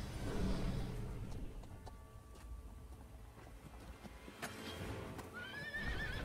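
Horses whinny and neigh in the fantasy game Riders of Icarus, with clip-clop hoofbeats and a steady ambient rumble; a higher, drawn-out whinny rises near the end.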